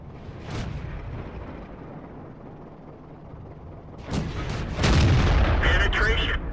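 Tank cannon shots and hits in the video game World of Tanks, a low rumbling background broken by heavy booming blasts in the final seconds, with speech in between.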